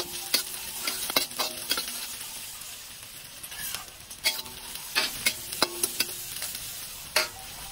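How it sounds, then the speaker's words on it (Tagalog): Garlic, onions, bay leaf and many bird's-eye chilies sautéing for fish kaldereta, with a soft frying hiss broken by repeated sharp clinks and scrapes of a utensil against the pan at an uneven rhythm. "ginisa na rin natin ang ating maraming siling labuyo"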